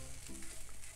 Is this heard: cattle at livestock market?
no